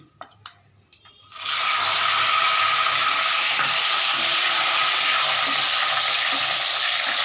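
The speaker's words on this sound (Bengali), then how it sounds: "এই টমেটোটা আমি এর মধ্যে দিয়ে দিচ্ছি" Chopped tomato hits hot masala in a pan and a loud, steady sizzle bursts up after a few light clinks, continuing strongly without pause.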